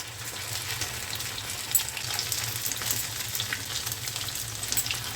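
Sabudana vada fry in medium-hot oil, giving a dense, continuous close sizzle with crackling bubbles and faint occasional shifting, and no voices over it.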